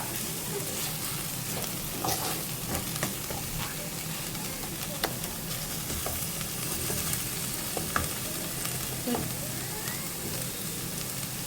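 Onions sautéing in a pan for a bachelor-style chicken curry, a continuous dense sizzle with occasional faint stirring scrapes, steady and fairly quiet.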